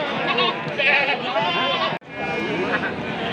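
Sheep, a ewe with her lamb, bleating loudly and repeatedly at the Singaparna sheep market in Tasikmalaya, close by over a crowded hubbub of voices, with a brief cut midway.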